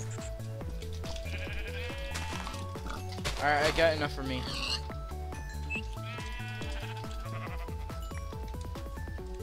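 Sheep bleating in the video game Minecraft, several short blocky bleats scattered among game music and sound effects, with a player talking over them throughout.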